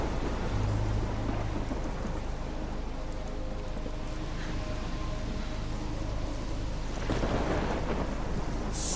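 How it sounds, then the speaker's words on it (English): A stormy night in the video game Life is Strange, with rough waters near a lighthouse: steady heavy rain pours throughout while low thunder rumbles and swells, with no speech. "Stormy night."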